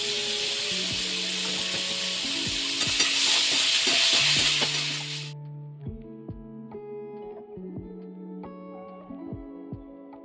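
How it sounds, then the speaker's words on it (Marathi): Sliced onions with salt fry in a pan for an eggplant and dried-fish vegetable dish, a loud steady sizzle for about five seconds, then a spoon scraping and stirring in brief strokes with quieter background. "म्हणजे कांदा लवकर परतला जाईल"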